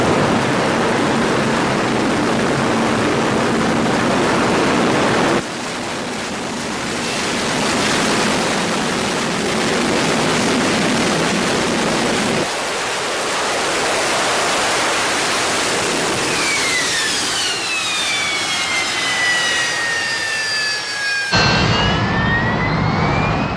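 Harrier jump jet in a steady hover on thrust from its four main nozzles, a loud, continuous broadband jet roar with shifting tones and a rising whine near the end before the noise drops away.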